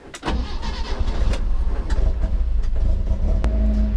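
An Alfa Romeo car engine cranks and catches within a fraction of a second, then settles into a steady, close idle with a few small throttle blips.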